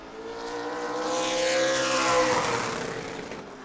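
A super late model race car on a qualifying lap at New Smyrna Speedway rises into a loud engine roar that peaks mid-pass and then fades slightly, a single car sweeping by with no talk.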